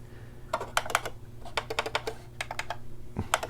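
Buttons on a gold-edition Pioneer DDJ Rev-1 DJ controller are pressed in quick bursts of crisp, close plastic clicks, with brief pauses between clusters and a faint low hum beneath.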